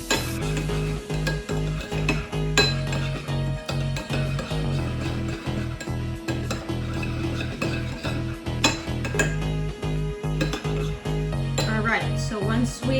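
A spoon mixes ingredients in a bowl while cooking, giving steady rhythmic clinks and scrapes against the bowl throughout, with faint talk underneath.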